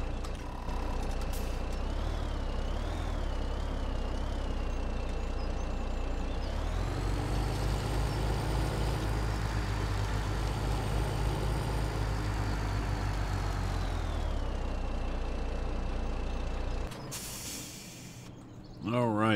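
A heavy farm vehicle engine in Farming Simulator 17 hums steadily as it reverses into position, the drone swelling loud for several seconds, with a brief clatter and sharp noise burst near the end.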